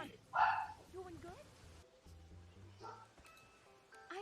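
Dogs bark in the background of a home livestream while a person talks over them, with a few short yelping bursts near the start and scattered fainter ones later.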